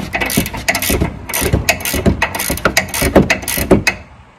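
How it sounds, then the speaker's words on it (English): A wrench turns the sway bar link nut on a Jeep Gladiator Sport, giving a close, steady run of quick ratcheting clicks in bursts with brief pauses. "you're going to need a 6mm Allen wrench and a 18mm wrench to loosen this nut up"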